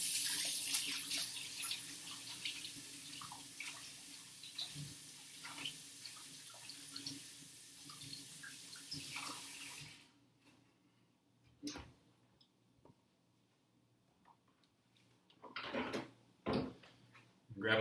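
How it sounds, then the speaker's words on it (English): Tap water runs steadily into a sink while dough is rinsed off fingers for focaccia, a continuous close splashing wash that stops abruptly partway through, followed by a few scattered clinks and handling noises. "I'm actually going to wash some of the dough off my fingers."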